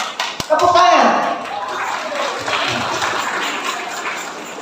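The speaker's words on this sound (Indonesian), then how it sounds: "Tepuk tangan." An audience at a school ceremony in Singkawang breaks into a short round of clapping that swells quickly and then fades, with speech over a public address system carrying on beneath it.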